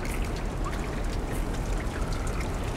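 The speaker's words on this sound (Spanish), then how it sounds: "Oh, mierda, más agua." Water pours steadily in the video game Limbo, a dense, continuous rushing trickle that fills the whole stretch loudly with no voices over it.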